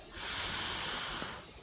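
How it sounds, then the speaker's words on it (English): Ujjayi breath during a yoga core workout: one long, close, hissing breath through the throat, rising and fading over about a second and a half. "Ujjayi breath."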